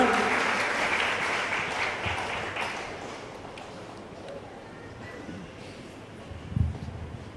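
A church congregation claps their hands in thanks to the Lord at a healing prayer service, a broad wash of applause that starts fairly loud and slowly thins and fades, with scattered voices underneath.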